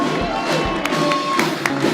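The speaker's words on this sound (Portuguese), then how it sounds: "vocês recebem ele com a salva de palmas" A live audience in Brazil cheers and claps for a guest, a broad wash of applause with a few shouts rising over it, fairly loud.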